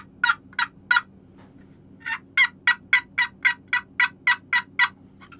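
Hand-held turkey call worked to imitate a gobbler, giving a few sharp yelps, a pause, then a fast run of about a dozen evenly spaced, loud close yelps.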